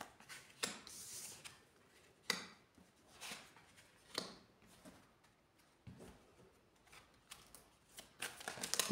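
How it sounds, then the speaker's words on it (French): Tarot cards drawn and handled in quiet, a few soft papery slides and flicks spaced irregularly, close and faint with no talking. "on va venir prendre 3 cartes"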